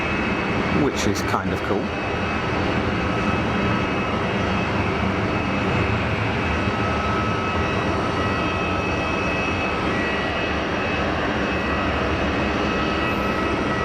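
Airbus A220 jet engines roar steadily at Geneva Airport as a loud broadband rumble that lasts throughout, with someone talking over it near the start.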